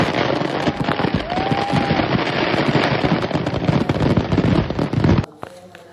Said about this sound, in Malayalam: പിന്നെ വെടിക്കെട്ട് കാണാൻ പോയി